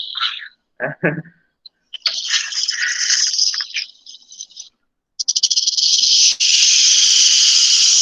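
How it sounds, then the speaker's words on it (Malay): A snake hissing in a played video recording: drawn-out, sharp hisses in several bursts with short gaps, ending in a long, loud continuous hiss, heard alone without talk. "Tajuk video ni suara ular."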